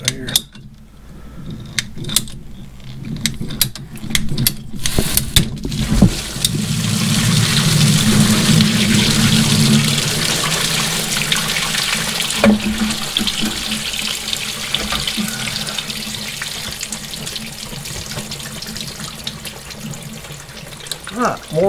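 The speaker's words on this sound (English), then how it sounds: "more water came out of that than I expected" Water gushes steadily out of a freshly cut plumbing pipe on a farm after the pump was removed, a loud continuous splashing rush that swells midway and carries on, with a few clanks early on.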